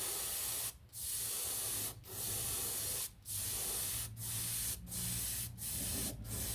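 Clear dope paint sprayed in repeated bursts over a Blackburn Monoplane model, a steady close hiss broken by brief pauses at regular intervals, with no voices.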